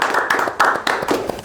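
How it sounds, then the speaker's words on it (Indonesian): A small studio audience claps hands at an Indonesian talk show, a few sparse, distinct claps close by, irregular and brief with no voices. "Kita tepuk tangan sekali lagi."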